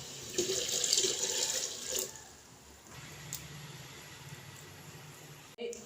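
Water splashes from a tap into a cooking pot, a steady rushing pour that eases off after a couple of seconds into quieter trickling, close by with no voices.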